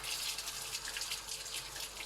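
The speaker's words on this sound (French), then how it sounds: "De l'eau bien chaude." Hot water runs steadily from a tap into a sink, a close, continuous hiss and splash with no break and no voices.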